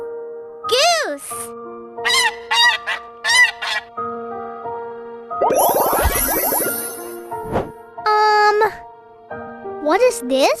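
A goose honks in a run of loud, nasal calls mixed with other bird sounds and short voiced phrases, the honking clustered near the middle and heard up close.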